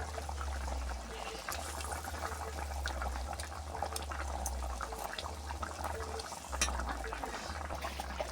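Simmering curry bubbles in a pan as water goes in and rohu fish pieces are added with a few light clatters, made under a steady low hum that runs through the whole stretch.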